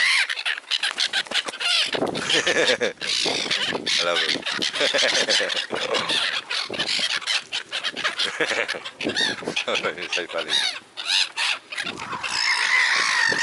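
Small birds squawking and chattering loudly in a town street, dense bursts of harsh calls close by, mixed with a person talking and laughing.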